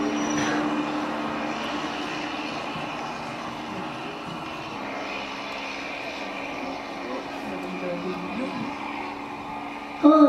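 A steady, droning roar of an airplane in flight, continuous and even with a low rumbling hum, fairly loud and unbroken throughout.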